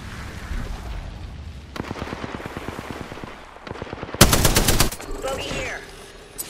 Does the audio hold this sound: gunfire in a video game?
yes